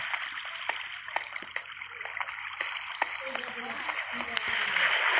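Sewer water in the Minecraft video game runs as a steady, hissing flow, loud and continuous throughout, with faint splashy ticks on top.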